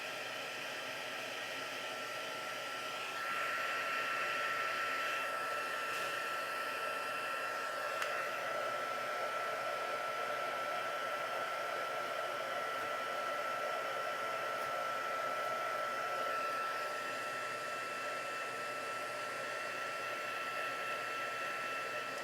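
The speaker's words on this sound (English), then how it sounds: "So I've got my heat tool." A handheld heat embossing tool blows hot air steadily during a card-making session, a continuous close whooshing hiss that swells slightly after a few seconds and holds with no talk.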